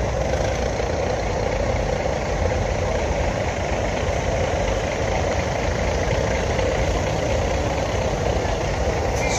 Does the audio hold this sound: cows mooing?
no